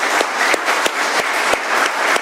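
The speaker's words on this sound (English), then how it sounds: "Let's give him another round of applause." An AA meeting audience keeps clapping, the loud, steady applause cut by a few sharper thumps at fairly regular intervals, with no one talking.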